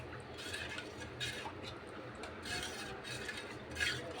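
A spoon stirs pani puri spice mix of black salt and coriander powder in a bowl, making soft repeated scrapes and light clinks at close range, with faint background sounds.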